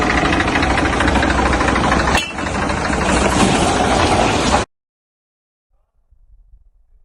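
Tractor engine idling and knocking steadily, a loud close mechanical rumble for about four and a half seconds with a brief dip, then cutting to near silence with faint low noise at the end.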